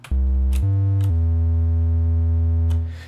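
A deep, smooth triangle-wave sub-oscillator bass tone from a WaveDuo synthesizer stepping down in pitch twice, then holding a long, steady low note that fades at the end.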